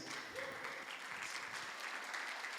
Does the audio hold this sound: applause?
yes